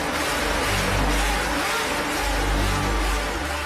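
A Honda RC 166 motorcycle with a 250cc four-stroke inline six-cylinder engine screams at very high revs, a loud, continuous mechanical howl with a faint rising and falling pitch, heard alone.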